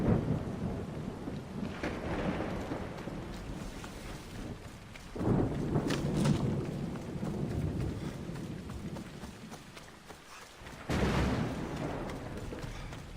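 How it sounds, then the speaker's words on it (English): Thunderstorm in the video game Assassin's Creed Odyssey, with steady heavy rain and rumbling thunder and two loud, sudden cracks of thunder that stand out against the storm. "a real storm being begun here."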